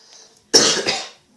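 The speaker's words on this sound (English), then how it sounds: "sorry about coughing, guys" A single harsh cough bursts out close up after a brief quiet moment, one loud explosive hack that tails off over about a second.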